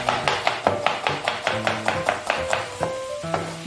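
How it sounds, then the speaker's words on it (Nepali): A knife chops two medium onions on a board with quick, regular strokes, about three or four per second, loud and close. No voices are heard. "अलिक ठिकै साइजको 2वटा प्याज काट्नेछु है।"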